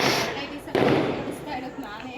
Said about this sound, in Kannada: ಏನಪ್ಪ ಅದು ಅಂತ ಹೊರಗಡೆ ಹೋಗಿ ನೋಡಿದರೆ ಪಟಾಕಿ ಹೊಡಿತಾ ಇದ್ದಾರೆ.